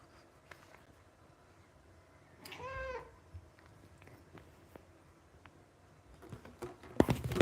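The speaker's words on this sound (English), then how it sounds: "And here's my other cat." A second house cat lets out a single clear meow in a quiet room, followed by light rustling and a brief handling noise at the end.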